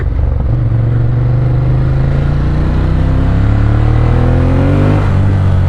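A 2016 Ducati Monster 1200 S roars loudly and close up while it accelerates on a ride, its engine note climbing steadily in pitch over a few seconds with rushing wind underneath.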